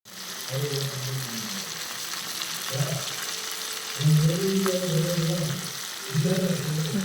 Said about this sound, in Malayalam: ഇനി കിടന്ന് നന്നായിട്ടൊന്ന് ഫ്രൈ ആയിക്കോട്ടെ